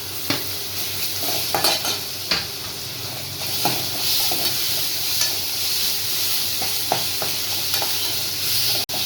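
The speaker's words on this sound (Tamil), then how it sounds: "இஞ்சி பூண்டு பேஸ்ட்டு ஒரு 2 ஸ்பூன் போட்டுக்கலாம்." Ginger garlic paste frying in oil with shallots and curry leaves for a goat trotter curry, a continuous close sizzle broken by repeated scraping and tapping of a spoon stirring in the pan.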